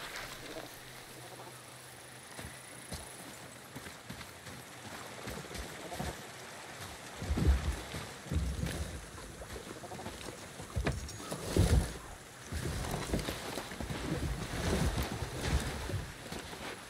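A boat moving across water in the God of War video game, soft lapping and splashing with wooden creaks, quiet at first and then rising in uneven surges near the end.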